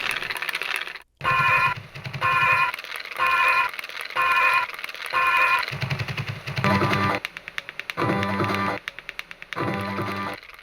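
Knives chop rhythmically on a board in a Bangkok cafe kitchen, in repeated bursts of rapid clacking with short pauses, amid clattering activity and background hum; a radio and Thai conversation are not clearly distinct.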